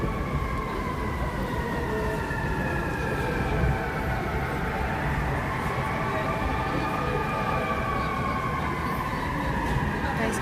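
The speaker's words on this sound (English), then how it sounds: "Can you hear the sirens?" Emergency vehicle sirens wail along a New York City street, several overlapping rising and falling tones sustained through the whole stretch over steady traffic rumble and city noise.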